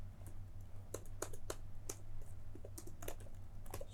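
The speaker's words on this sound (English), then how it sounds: "in here I'm gonna type font size" Someone types on a computer keyboard with a quiet run of light, irregular key clicks over a steady low hum, and no talking.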